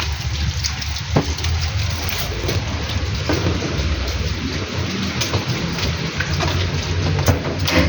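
Heavy rain pours steadily in Saudi Arabia with a dense, constant roar, broken by occasional splashes and thuds nearby; no talking.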